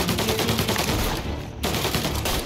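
Gunfire in the video game Mafia: Definitive Edition, a dense rapid volley of shots crackling loudly throughout, briefly dropping away for a moment before the barrage resumes.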